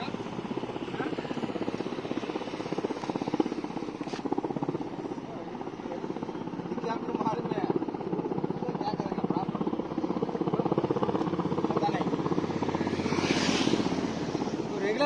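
A helicopter flies near an airport in Jammu, a steady droning rotor and engine hum lasting throughout at moderate distance, with people talking over it.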